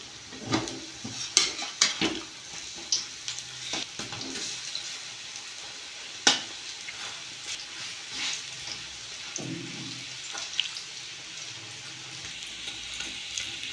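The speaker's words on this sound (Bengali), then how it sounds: "এরপর আমি বাকি গোটা ভেজে নেব।" Cabbage pakoda fries in hot oil with a continuous soft sizzle, broken by occasional sharp clinks and scrapes of a utensil stirring and turning the fritters.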